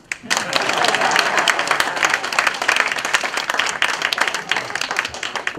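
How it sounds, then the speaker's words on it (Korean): An audience at a patriotic lecture in Korea claps in a sustained burst of dense applause that starts suddenly and fades slightly toward the end. "박수 쳐봐요."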